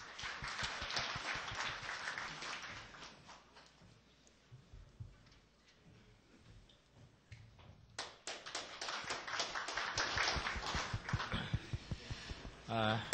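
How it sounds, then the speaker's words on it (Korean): At an award ceremony in a Korean university hall, the audience bursts into clapping, with brisk sharp claps at the start, a quieter lull, then a stronger swell of applause; voices are heard during the lull. "큰 박수 부탁드립니다."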